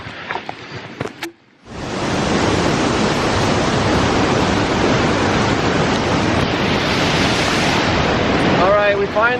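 Steady, loud rush of waterfalls in Echo Valley, Sagada, Philippines, a broad unbroken roar that starts abruptly after a brief moment of quieter sounds and carries on alone close to the falls.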